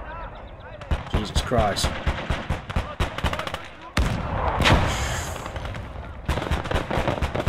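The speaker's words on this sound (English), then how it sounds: "Artillery's firing." Battle sounds from the World War II strategy game Gates of Hell: Ostfront, set in the invasion of Poland: rapid machine-gun bursts and rifle cracks with heavy artillery blasts booming through. A man briefly exclaims over the din.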